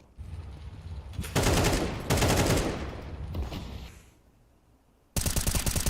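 Rifle gunfire in a Counter-Strike esports match, loud rapid bursts of shots in several volleys with brief pauses between, the last burst starting abruptly near the end.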